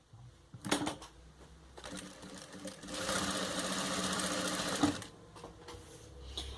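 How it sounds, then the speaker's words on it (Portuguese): Sewing machine stitching a festival apron up to the corner, a short start, then a rapid steady mechanical whir for about two seconds before stopping, close and clear. "Venho costurando até o cantinho."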